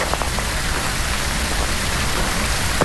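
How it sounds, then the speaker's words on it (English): Steady rain falls in the Phasmophobia ghost-hunting game, a continuous even hiss of drizzle with a low rumble underneath, with no talk over it. "It is raining, by the way."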